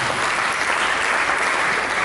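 A church congregation claps steadily and densely, a loud continuous wash of applause filling the whole stretch.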